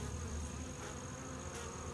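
Honeybees buzzing steadily and close during an August hive inspection, a dense continuous hum with no talk.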